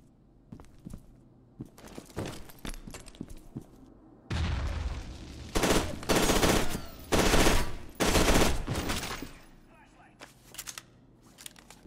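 Grenade blasts in the shooter game F.E.A.R. 2: Project Origin, with a run of loud, booming explosions and bursts from about four to nine seconds, mixed with rapid gunfire and preceded by scattered sharper shots.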